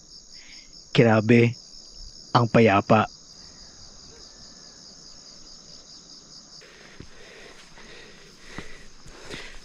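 Crickets chirp in a high, unbroken drone on a mountain trail at dawn, close and steady throughout, while a hiker speaks briefly and breathes heavily.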